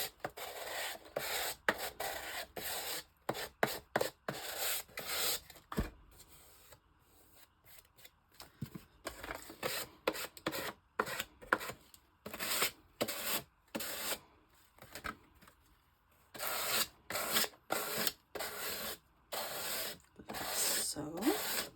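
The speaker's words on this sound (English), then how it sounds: "I'm going to once again use my sanding block and just do the edges a bit" A sanding block rubs the paper edges of a handmade writing board in quick bursts of short scratchy strokes, pausing briefly between runs, close and fairly quiet.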